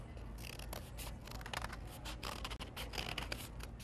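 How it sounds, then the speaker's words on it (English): Scissors cut a fish shape out of paper, giving a series of quick, close snipping and crisp rustling sounds that are faint and steady over a few seconds, with no talking. "And I'm going to cut it once again."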